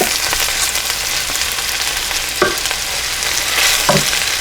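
Beef frying in oil in a pan, a steady close sizzle running throughout with a couple of short scrapes from a utensil.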